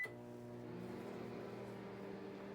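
A microwave oven runs with a steady, low electrical hum, even and unbroken, near but faint, with no talking.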